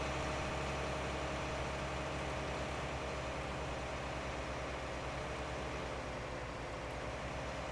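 Tractor engine in Farming Simulator pulling a seeder, a steady low rumbling drone with constant loudness throughout, no talking.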